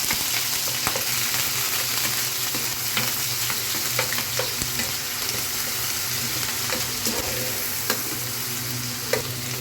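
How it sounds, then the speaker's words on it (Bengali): Small shrimp lightly frying in a pan: a loud, steady sizzle close by, punctuated by sharp stirring taps and scrapes, no speech. "প্রথমে মাছটা একটু ভেজে নেবো হালকা করে"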